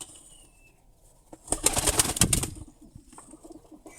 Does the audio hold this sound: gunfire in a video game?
no